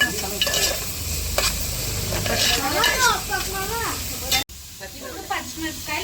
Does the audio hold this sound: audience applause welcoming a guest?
no